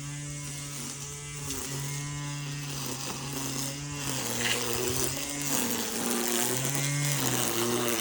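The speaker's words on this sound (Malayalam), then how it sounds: "കാട് വെട്ടുന്ന മെഷീൻ കൊണ്ട് അച്ഛൻ കാട് വെട്ടിക്കൊണ്ടിരിക്കുകയാണ് കേട്ടോ" A brush cutter hacks through overgrown grass and brush nearby, its small engine droning steadily with a rising and falling pitch as the load changes, loud and continuous with no voices.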